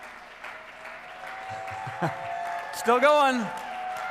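An audience cheers and applauds while a live fundraising total climbs, with a steady wash of clapping throughout and a voice briefly speaking over it.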